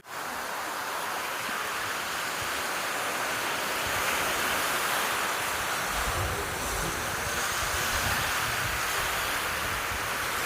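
Sea waves at Thatichetlapalem beach wash in as a steady, loud roar of surf, with wind blowing throughout.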